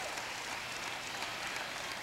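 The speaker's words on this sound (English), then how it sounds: "As Willis and Hauser get some applause as they take a seat." Faint, steady applause washes through the gym at a high school girls' basketball playoff game, a brief, distant patter of many hands.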